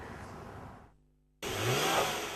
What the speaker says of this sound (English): Under the hood of the S60 we are testing, a 6-cylinder gasoline engine provides 304 horsepower.